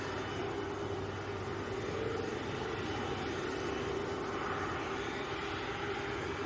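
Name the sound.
Virgin aircraft departing Manchester Airport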